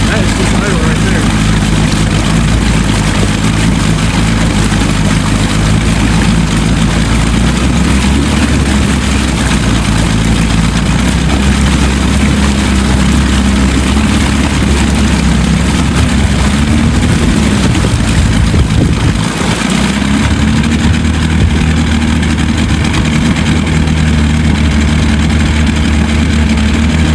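An outboard boat motor idles steadily and loudly throughout, running on 50:1 fuel mix, a constant low rumble that never lets up, with a brief dip in the sound near the end.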